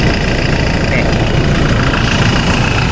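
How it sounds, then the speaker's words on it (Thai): A used car, a vehicle just off its lease contract, idles steadily at close range, a smooth, even engine hum with a low rumble and no change in speed. "เครื่องยนต์เดินนิ่ง ๆ นิ่งทุกคันครับ"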